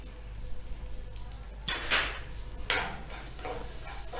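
Hot oil crackles and sizzles softly as green chillies, onion and curry leaves fry in a tempering, with a couple of louder hissing bursts as they are stirred in a pan.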